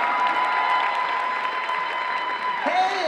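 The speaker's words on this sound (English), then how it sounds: "Round of applause for that, ladies and gentlemen." Crowd applause at a cosplay contest during a comic convention, a steady wash of clapping mixed with a sustained tone and background voices throughout.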